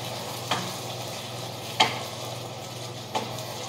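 Red curry beef ingredients cooking in a pan, with a steady low sizzle and hum throughout and three sharp stirring clacks spaced about a second apart.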